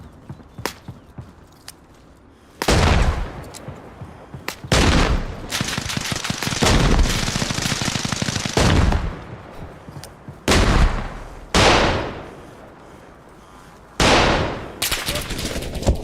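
Gunfire from other players in the DayZ video game, heard as several loud, close bursts of shots separated by short pauses, with quieter single shots and footsteps in between.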